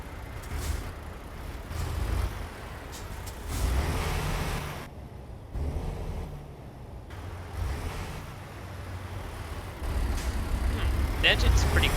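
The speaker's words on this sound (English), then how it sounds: "The engine's pretty good. They definitely improved the sound effects." A heavy Peterbilt truck engine in the video game Rigsters Journey rumbles steadily with a couple of hissing air-brake bursts, sounding synthetic and game-like, with someone talking over it.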